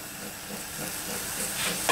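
Pineapple sizzles in a pan greased with vanilla, a steady hiss that builds slightly over two seconds and ends in a brief louder burst.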